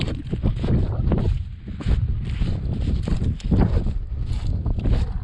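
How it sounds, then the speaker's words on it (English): Gusty wind buffets the microphone in uneven, rumbling bursts during sea fishing, loud and close, with no voices. "It's a bit windy."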